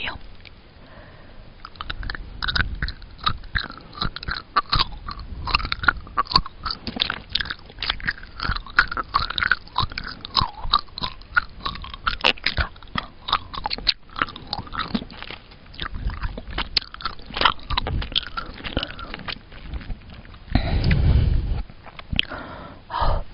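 Colored paper is bitten and chewed close to the mic in an ASMR style. Crisp crunches and rustling snaps repeat irregularly throughout, with a louder, fuller burst of chewing near the end.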